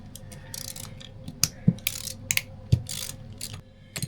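A ratchet loosens a small Allen bolt on the carburetor rack of a 1999 Polaris XCR 800 triple. Its sharp, close clicks come in short irregular bursts against a quiet workshop background.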